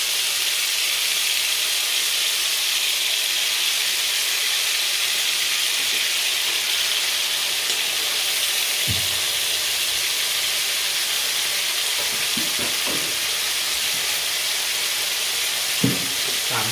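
Oil sizzles steadily in a pan for a stir-fry, a loud, constant close hiss with a few faint knocks near the end and no talking.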